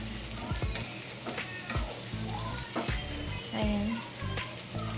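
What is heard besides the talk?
onion and garlic sautéing in a pan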